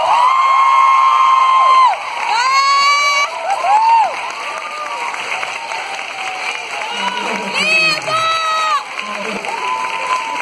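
An audience at a book fair cheers, whoops and applauds loudly, with children shouting among the crowd and bursts of noise rising and falling.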